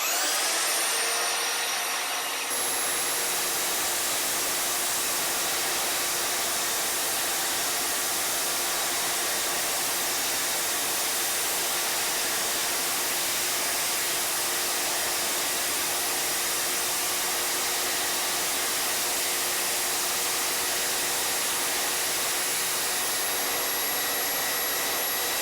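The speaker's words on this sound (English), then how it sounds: "if you've got a good belt sander, what you can do is you can just offer that onto there and rotate that round." Belt sander whining steadily as it shapes the end of a hardwood longbow, a loud, constant high-pitched roar of belt and abrasion that starts abruptly and runs without a break, with no talking.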